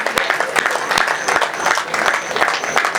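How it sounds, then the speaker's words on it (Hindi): Audience at a Hindi poetry gathering in a township applauding a poet, a continuous bed of dense clapping with a few sharper claps standing out. "बहुत जोरदार तालियां संजय खत्री के लिए"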